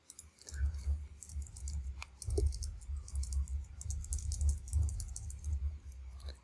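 A computer mouse clicking in quick, light taps, scattered across the stretch with a few brief pauses, faint and close by.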